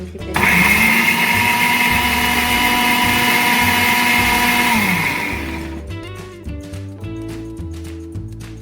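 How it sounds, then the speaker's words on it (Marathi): A mixer grinder whirs loudly and steadily while blending spice mix, chickpeas and a little water into a paste, its motor pitch holding for about five seconds before it winds down and stops, with a brief knock afterward. "तर मी आता मिक्सर चालू करते आणि"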